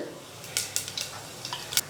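Hot oil sizzles as bay leaf and cinnamon pieces are added, with a few quick crackles and pops, short bursts of spitting over a low, steady frying hiss.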